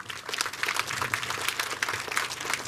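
A crowd claps continuously at a political public meeting in honour of a local leader, a dense, steady patter of many hands close by, with no clear gaps and a faint murmur of voices beneath.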